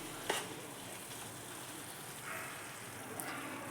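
Coconut burfi mixture with milk cream being stirred in a pan, a faint soft sizzle with a few scraping strokes of the spoon, heard on its own.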